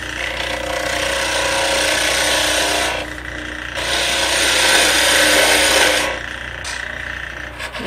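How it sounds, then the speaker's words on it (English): A spindle roughing gouge cuts a wooden tool handle spinning on a lathe, giving a loud, close rasping scrape that drops away twice in short breaks and then resumes; no speech. "I think I can just keep doing that with my spindle roughing gouge"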